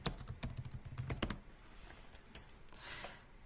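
Quick bursts of keystrokes on a computer keyboard clatter close by for about a second and a half, then give way to quiet room hiss with a faint rustle near the end.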